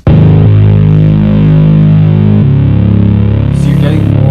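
A loud, distorted synth bass with EQ boosting its low end holds a heavy, buzzing tone, shifting to a new note partway through, with a brief higher burst near the end.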